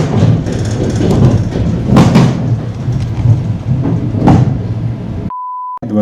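A Russian passenger train rumbles loudly and steadily with clanking bursts as it arrives at the Chumatlo stop, then the sound cuts off abruptly to a lone steady tone.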